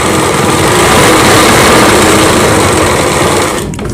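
A sewing machine stitching fabric for a Rajputi kanchali blouse runs at a loud, steady whirring pace close up, then stops abruptly near the end.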